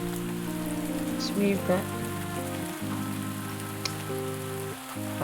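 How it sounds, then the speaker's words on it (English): Steady patter of rain in the farming game Pumpkin Days, mixed under layered game music, with a brief spoken remark partway through. "what I can do now is just stand here in the rain"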